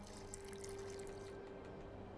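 Water splashes and trickles onto a paper letter in The Witcher 2, a steady, quiet liquid wash that runs unbroken for a couple of seconds with no voices.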